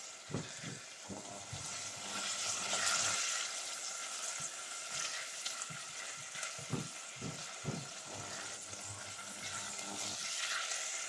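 Curry leaves and chillies sizzle in hot oil in a home kitchen, a steady close frying hiss broken by irregular scraping and clacking knocks as they are stirred.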